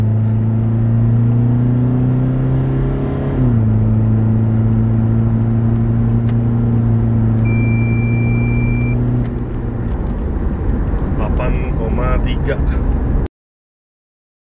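A modified 2013 Toyota Fortuner VNT diesel accelerates hard with a loud, close engine drone that rises steadily over several seconds, shifts once, then carries on before fading into road and wind noise.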